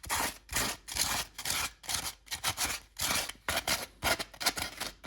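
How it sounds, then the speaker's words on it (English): Loose wood pieces are knocked and scraped out of a hollowed wooden greater scaup drake decoy body after Forstner bit drilling, making rapid, close rubbing and scraping strokes in an uneven rhythm that continues throughout. "just quickly knocking off anything that's loose so it's not rattling around inside the decoy"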